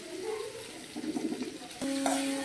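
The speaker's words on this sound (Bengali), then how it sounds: "ছ্যাকছুক করছে পেঁয়াজগুলো পেঁয়াজগুলো আমরা একটু ভাজা ভাজা করে নেবো" Onions fry in a pan for chow mein, a soft, close sizzle with occasional stirring scrapes, growing a little louder toward the end.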